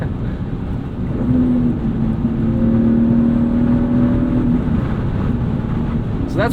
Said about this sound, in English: So that's where the M50 manifold shines, the top end. It loves to rev.